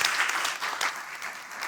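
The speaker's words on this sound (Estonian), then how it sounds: "teeme suure aplausi meie panelistidele" An audience applauds panelists at the close of a nature-conservation panel discussion: a dense, steady wash of clapping from a crowd, fairly loud throughout the short burst.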